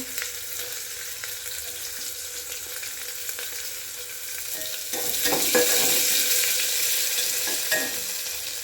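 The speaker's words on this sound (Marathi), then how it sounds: "कांदा टाकायचा कांदा तळून घ्यायचा" Onions frying in a pan with curry leaves for pulao rice, a continuous close sizzle that grows louder midway as stirring scrapes and crackles join in.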